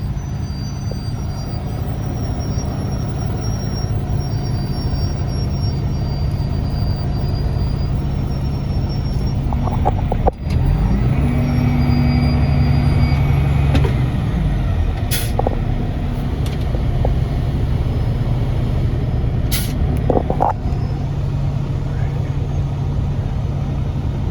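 A dump truck hauling asphalt raises its bed while backed into a paver hopper, with a loud, steady diesel engine drone and a few sharp air hisses and clanks throughout.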